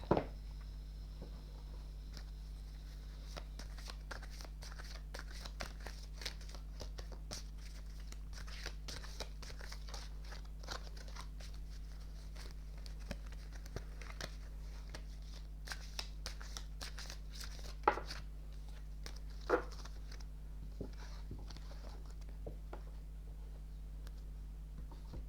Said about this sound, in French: je vais vous tirer 3 cartes de l'oracle des amoureux